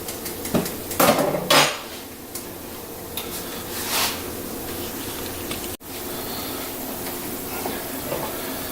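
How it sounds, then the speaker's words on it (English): A pasta spoon stirs and scrapes stuck spaghetti in a pan, with a few clattering knocks of metal against the pan early on, then softer scraping over a hissing background. "We want to kind of stir everything around and get it so it doesn't stick to the bottom of the pan"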